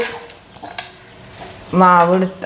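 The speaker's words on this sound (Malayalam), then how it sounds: "അപ്പം നമുക്കിതേ ഉണ്ണിയപ്പച്ചട്ടി എടുത്ത് വയ്ക്കാം" An unniyappam pan gives a few light metallic clanks and knocks as it is lifted and set down on a kitchen surface, followed by someone speaking close by.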